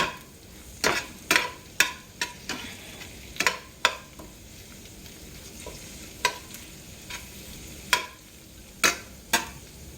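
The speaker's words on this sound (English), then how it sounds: "Let's turn this heat up a little more so we can get those onions cooked in there." Onions fry over turned-up heat for a Philly cheesesteak, a soft constant sizzle broken by repeated sharp scrapes and clacks of a utensil stirring against the pan.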